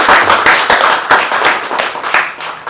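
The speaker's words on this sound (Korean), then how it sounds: "5분 토론에 임해 주신 분께 따뜻한 박수를 먼저 보내주십시오" Seminar audience applauding a panel discussion on Korean climate crisis cooperation, dense steady clapping from many hands throughout, fairly loud and close, with no talk over it.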